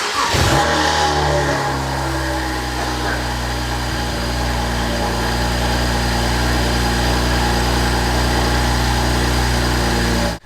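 A BMW 135i 1M replica fitted with huge turbos runs steadily, a loud, deep engine drone with a sharp rev at startup, then continuous idle rumble dominating throughout.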